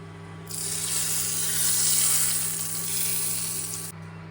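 Tempering (vaghar) is added to a hot pan and sizzles loudly in one sustained burst of about three and a half seconds, set against a low steady kitchen hum. No one speaks.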